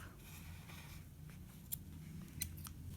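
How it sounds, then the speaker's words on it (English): Scissors snip through crochet yarn in two or three quiet, sharp cuts near the end, set against a faint low background rumble. "And then I can just cut that off."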